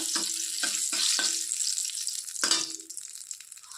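Two bay leaves dropped into hot oil for a fish curry give a crackling fry, with a few short sharp spatters followed by a bright sizzle that fades, close and alone.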